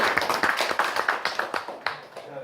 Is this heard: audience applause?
yes